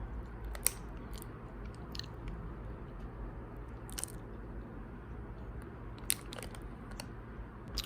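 Close chewing and biting on frozen bread, soft crunches and squishy bites repeating irregularly at a quiet level, no talking.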